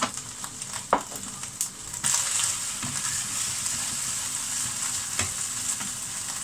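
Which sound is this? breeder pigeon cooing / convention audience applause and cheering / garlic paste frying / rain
garlic paste frying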